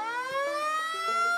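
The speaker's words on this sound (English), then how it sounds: "the sound you're hearing is a siren going off to notify CFA volunteers that there's a fire" A fire brigade siren alerting volunteer firefighters to a fire wails steadily in a long, slowly rising tone, sounding from some distance and filling the whole moment without other noise.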